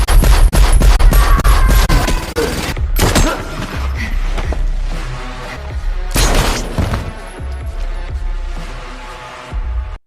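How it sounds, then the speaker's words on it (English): Machine gun fire in an action movie scene: loud dense rapid bursts of gunfire with booming impacts and crashes, heavy and close, broken by brief pauses. "Gonzalez's girlfriend also unable to avoid Brian's attack after trying to kill him with machine gun."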